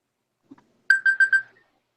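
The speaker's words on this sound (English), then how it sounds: "the moderator will sound a bell" A moderator's bell rings four quick times in an even rhythm, bright and clear against silence, followed by a short fading tail; a faint soft tap sounds just before the strikes.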